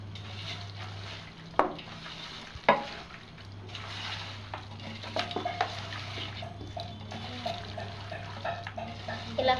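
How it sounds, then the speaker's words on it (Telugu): Biryani ingredients being mixed by hand or spoon with salt and fried onions: soft scraping and stirring textures with a few sharp clinks from the vessel, steady low hum underneath, no talking. "వేసుకొని ఇలా బాగా కలుపుకోవాలి."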